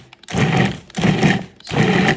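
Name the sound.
Cuisinart food processor mixing butter, flour, salt and sugar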